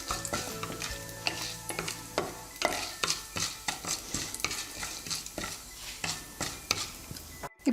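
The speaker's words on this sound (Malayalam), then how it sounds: "ഇതുവരെ ഇതൊന്ന് ലൈറ്റായിട്ട് വഴറ്റി കൊടുക്കാം സിമ്മിലിട്ടിട്ട്" Urad dal and chana dal sauté on a low flame, with a faint steady sizzle under a close run of quick, rhythmic stirring scrapes against the pan.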